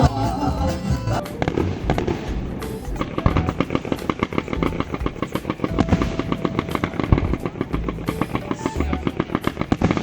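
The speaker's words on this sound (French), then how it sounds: "aujourd'hui nous allons voir le feu d'artifice." Loud fireworks display for the national holiday in Corsica, with dense rapid crackling and popping bursts that run continuously like firecracker strings, and a few louder bangs mixed in throughout.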